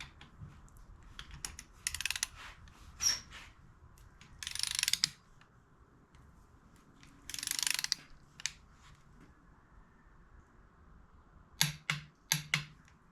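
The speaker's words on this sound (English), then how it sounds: "we're going to be using 2 separate torque ratchets to sort of speed up the process" Torque ratchet clicking while tightening cylinder head bolts on a 454 big block engine, heard as several separate bursts of rapid clicks and a few sharp single clicks with quiet gaps between.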